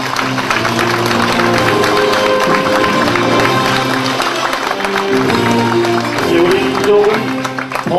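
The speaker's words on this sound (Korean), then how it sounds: "여러분 뜨거운 박수 부탁드리겠습니다" Loud, sustained applause from a large crowd at a Korean election campaign rally, with a voice and music going on over the clapping throughout.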